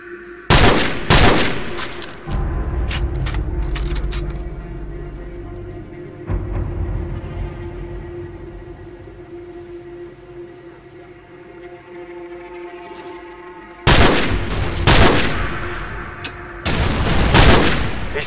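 Gunfire in Call of Duty Modern Warfare: sharp loud bursts open the scene, a deep rumbling stretch follows, then near-silent ambience, and heavy rapid shots return at the end.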